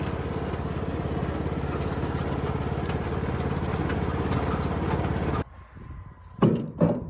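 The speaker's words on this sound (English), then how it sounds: "I love Dad's old tractor. It's a Troy belt." An old Troy-Bilt garden tractor engine running close by with a steady, rough mid-pitched drone, then suddenly cutting out, followed by a few knocks and clunks.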